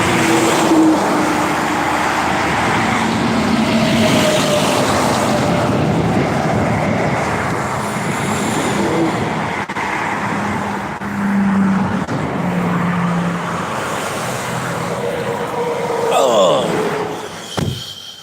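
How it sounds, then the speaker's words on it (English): Cars rush past along a turnpike shoulder in a steady loud roar of traffic, with vehicles passing close by one after another and people talking over the noise. "when you see these cars coming down here, it's crazy. It's craziness."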